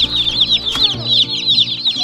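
Close, busy high peeping from many Cornish cross broiler chicks as they are loaded into a brooder, with dense overlapping chirps and a brief knock partway through.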